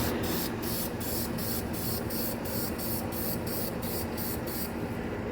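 A spray paint can hisses steadily at close range while coating a plastic interior part from an OBS Chevy short-bed truck, with rhythmic pulsing as the nozzle sweeps back and forth and no talk.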